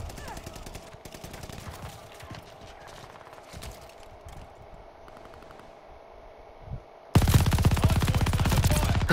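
An MG42 machine gun in the video game Call of Duty Vanguard; quieter game noise and a low ambient tone give way to a loud, sustained burst of rapid automatic fire near the end.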